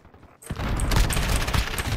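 In the video game Call of Duty Modern Warfare, a rapid burst of automatic gunfire erupts after a brief near-silence and rattles on loudly and densely until the end.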